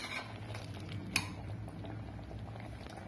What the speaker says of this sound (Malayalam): ഇതൊന്ന് തിളക്കട്ടെ.